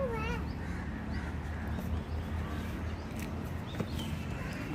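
Birds call in an adventure park in Mayur Vihar, Delhi, including a koel. Scattered, fairly faint calls and warbles sit over a constant low background murmur.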